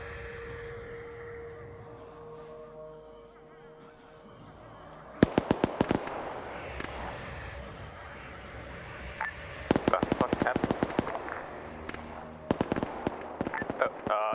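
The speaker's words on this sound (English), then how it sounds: "Ignore the gunfire, boys. That's not us." Rapid bursts of video game gunfire crackle in clusters after a quieter stretch, sharp repeated shots over background noise.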